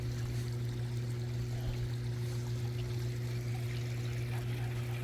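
Water from a garden pond waterfall runs slowly and steadily, a soft continuous trickle alongside a persistent low pump hum, with no talk.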